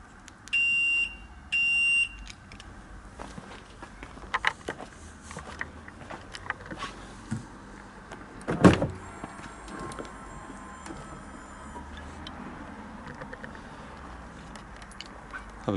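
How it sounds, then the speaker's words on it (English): A 2011 Ferrari 599 GTO unlocks with two short electronic beeps near the start, followed by quiet handling noises, soft clicks and a sharp clunk midway. "So what I'm going to do is unlock the car."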